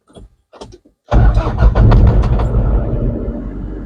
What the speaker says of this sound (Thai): เดี๋ยวลองติดเครื่องดูนะครับ